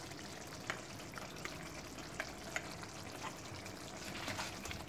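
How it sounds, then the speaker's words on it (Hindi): Yogurt added to achari arvi frying in a pan, a steady soft sizzle and crackle with a few brief clicks, fairly quiet and without talk. "अब इसमें इस टाइम पे हम दही डाल देंगे"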